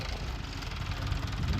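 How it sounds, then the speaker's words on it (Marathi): A tractor engine running while ploughing a field gives a steady, moderately loud low rumble with a slight uneven throb, heard alone and unbroken throughout. "टोटल 3 ट्रॅक्टर लावलेत आपण"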